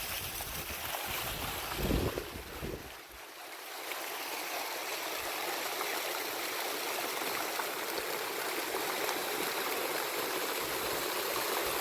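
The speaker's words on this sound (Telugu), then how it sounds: "మీద నీళ్ళు పడుతుంది." Water from the Mysore water dance fountain splashes down in a steady, loud broadband rush, briefly swelling around the second mark, with no voices heard.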